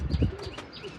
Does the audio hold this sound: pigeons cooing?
yes